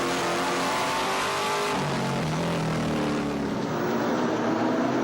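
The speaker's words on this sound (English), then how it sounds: "hear the note of that fantastic V8 engine roaring around this raceway" A V8 race car engine roars continuously at high revs on a raceway during a 2009 European Le Mans Series race, its pitch dropping briefly as it shifts, then climbing again, loud and close.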